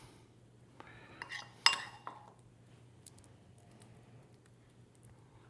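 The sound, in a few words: knife smearing avocado onto an English muffin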